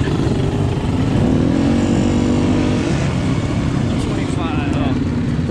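A Beta 125 dirt bike engine with a sticky throttle revs loud and close, holding a droning, uneven pitch with a few rises. A rider's voice is faintly mixed in.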